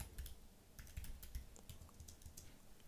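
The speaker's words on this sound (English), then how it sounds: "with the keyboard." Keys on a Mac computer keyboard running macOS Sonoma clatter in a quick, irregular typing rhythm, close and fairly faint, with no voices.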